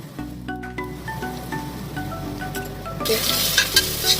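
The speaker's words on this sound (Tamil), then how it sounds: "கருவேப்பிலை வெங்காயம் போடுறோங்க. இது கூட இஞ்சி பூண்டு" Curry leaves, onion, ginger and garlic hitting hot oil in a pan for Chettinad mutton nalli kulambu, a steady close sizzle that swells louder near the end, with faint clinks of stirring.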